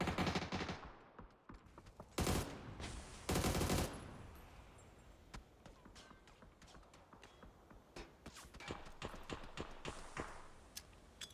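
Gunfire and grenades in the video game PUBG, with several loud bursts early on followed by scattered, fainter shots and clicks continuing in the background.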